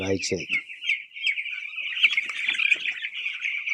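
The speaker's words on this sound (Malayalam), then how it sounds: "കോഴിക്കുട്ടികൾ 7 ദിവസമായ കുട്ടികളാട്ടോ" A dense chorus of week-old broiler chicks on a poultry farm chirps constantly, high and shrill, many birds at once, with a brief voice at the start.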